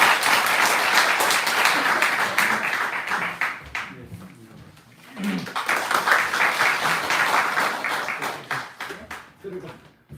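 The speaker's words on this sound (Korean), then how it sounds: "7분의 선교사님 같이 하나님께 영광을 돌리며 박수로 환영합니다" A church congregation claps and applauds in welcome for seven missionaries during a Korean Sunday service, steady dense clapping that fades midway and swells again, with voices mixed in.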